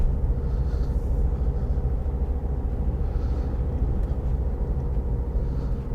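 Heavy road traffic on Dover's streets at night, heard from inside a moving vehicle as a loud, constant low engine and tyre rumble with faint swells of passing cars.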